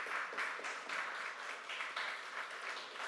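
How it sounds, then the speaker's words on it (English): A small audience at a labor program closing ceremony gives a commissioner a round of applause, heard as faint, distant, unevenly pulsing clapping from a modest crowd. "Let's give Commissioner Malloy a round of applause."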